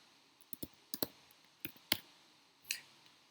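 Someone types a git command on a computer keyboard, producing several sharp, close clicks in an irregular rhythm with short pauses between them. Nobody speaks.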